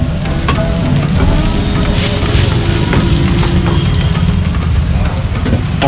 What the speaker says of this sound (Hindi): देखिए जब तक ये फ्राई हो रहा है यहाँ पे बढ़िया से